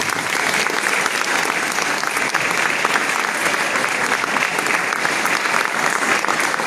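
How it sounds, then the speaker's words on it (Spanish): A church congregation applauds at an Easter Sunday communion service, with loud, dense clapping that holds steady the whole time and no speech. "¿Cuántos aplauden al Señor?"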